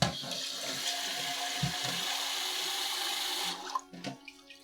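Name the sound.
washing rice in water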